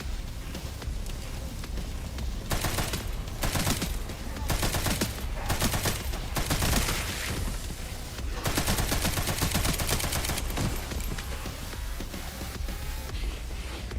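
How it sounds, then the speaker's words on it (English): Sustained machine gun fire in a video game, loud dense rapid bursts rattling almost continuously, with short pauses between volleys. "let's try a machine gun"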